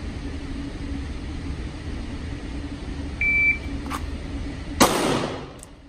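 A Pact Club Timer III shot timer gives one short, clear electronic beep, followed by a sharp loud gunshot-like burst, against a quiet background hum.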